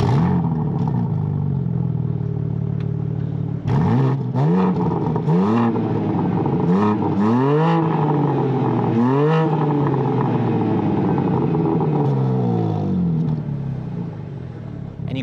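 A 2022 BMW M3 Competition straight-six fires up through its black-painted exhaust, then settles into a loud, close idle broken by several sharp rev blips that rise and fall.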